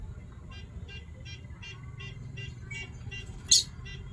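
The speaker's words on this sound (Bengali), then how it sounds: "পাখিগুলো ডাকছে, শুনতে পাচ্ছ আওয়াজটা?" Pet birds kept in a rooftop garden give faint, evenly spaced chirps that repeat about twice a second over a low background hum, with one sharper squawk near the end.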